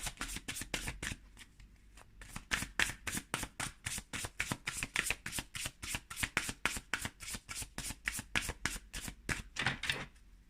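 Tarot cards shuffled by hand, a rapid run of crisp riffling flicks repeated many times at close range, fairly quiet, with no talking.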